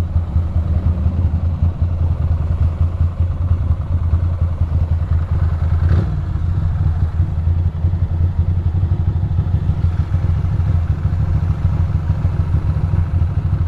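A Ducati Monster 620 motorcycle engine, running hot, chugs steadily in traffic with a low, uneven mechanical clatter, loud and close throughout with no speech.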